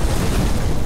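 A dense, rumbling boom of an explosion fills the moment, loud and broad with a sustained low roar and no speech.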